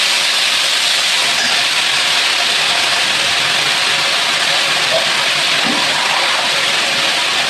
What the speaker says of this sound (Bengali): মশলাটা কষানোর জন্য একটু জল দিলাম।